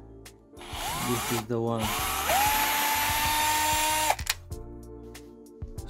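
A power drill whirs while backing out screws from a Samsung Q990B soundbar, rising in pitch and holding a steady whine for a few seconds before cutting off, with clicks around it and a brief spoken remark.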